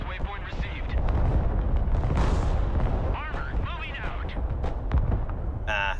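Artillery fire in the real-time war game Broken Arrow, a run of deep booms and blasts rolling through a busy battlefield mix at moderate distance, with other gunfire and radio chatter voices over it.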